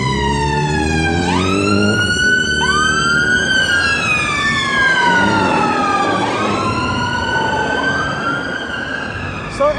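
Several emergency sirens wail and overlap, rising and falling at different pitches, loud and close over a low rumble of road traffic.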